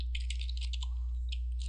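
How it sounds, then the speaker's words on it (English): Fingers type a password on a computer keyboard, tapping out a quick, uneven run of close, crisp key clicks with short gaps over a low hum. No voices can be heard. "Notice as I'm typing my password,"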